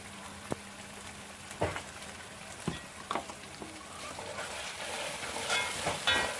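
Chicken and ash gourd curry with ground spices, pepper, chilli and turmeric being stirred in a pan, giving a low steady sizzle with scattered scraping clicks of the spoon against the pan, close and fairly quiet.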